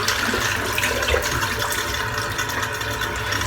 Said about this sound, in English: Before I rinse my face, I'll just do that now.